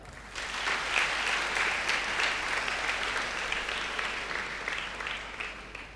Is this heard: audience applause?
yes